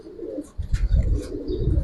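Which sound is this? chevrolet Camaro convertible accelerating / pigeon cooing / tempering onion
pigeon cooing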